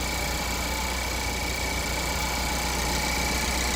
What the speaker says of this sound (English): The car is on.